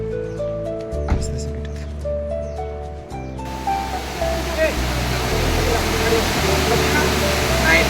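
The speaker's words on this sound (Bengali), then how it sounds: "এই হচ্ছে খন্দকার জলপ্রপাতের জল নেমে আসছে নিচে" Khandadhar waterfall in Sundargarh, Odisha, pouring down as a steady, loud broadband roar of falling water that swells over the clip, with low tonal hum and some background sounds early on.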